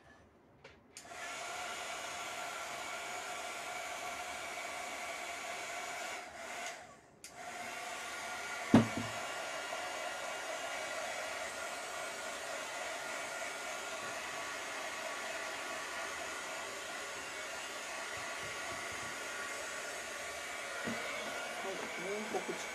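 Hair dryer blowing steadily close by to dry paint on a large palm heart jar in a DIY craft project, a continuous whooshing drone that briefly cuts out and restarts, with a faint knock.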